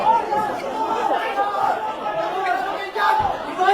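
Crowd shouting and agitated chatter fill the Philippine Senate chamber during a shooting incident, a dense, continuous wash of many voices with a brief dip before swelling again.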